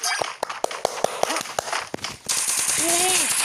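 Rapid, irregular bursts of game gunfire crack sharply, then give way to a dense, steady roar with a short rising tonal blip.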